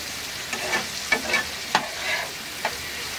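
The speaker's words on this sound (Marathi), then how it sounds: "आता हे असं कांदा आणि टोमॅटो शिजायला घेऊया" Onion and tomato stir and fry in a pan for bhendi batata, a low steady sizzle under a handful of scraping spoon strokes, close and moderately loud, with no talk.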